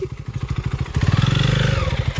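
KTM RC 390 motorcycle engine revving nearby, a pulsing single-cylinder throb that climbs in pitch and loudness midway and holds, alone without talk.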